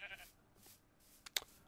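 Goats bleating in the TerraFirmaCraft modpack for Minecraft, a few short faint calls at mid distance, followed by a sharper louder bleat near the end over a quiet background.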